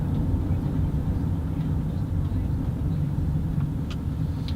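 A car cruising with cruise control as it nears a roundabout, heard as a steady, loud low engine and road rumble from inside the cabin that continues unbroken and holds an even level throughout.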